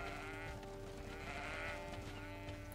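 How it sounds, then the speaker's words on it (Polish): Goats bleating in the fantasy video game GreedFall, a steady wavering animal call that carries through the whole stretch over a continuous game ambience background. "Te kozy nas nie atakują."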